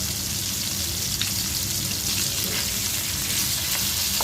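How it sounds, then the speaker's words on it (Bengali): Fish fries in hot oil in a home kitchen. A steady, dense sizzle and crackle continues unbroken, close and fairly loud, with faint spatters and no talk. "আর এদিকে মাছটাও হয়ে যাচ্ছে ভাজা।"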